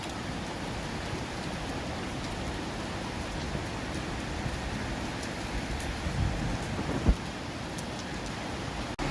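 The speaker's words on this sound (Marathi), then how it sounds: "किती छान पाऊस पडतोय" Heavy morning rain in Mumbai pours down as a dense, unbroken roar, with a few louder drips and thumps near the end and no voices.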